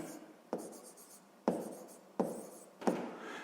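Pen strokes writing numbers by hand on paper, the divisors of 18 in a sixth-grade maths exercise, come as four separate scratchy bursts about a second apart, each a sharp onset that fades, close and alone with no talk.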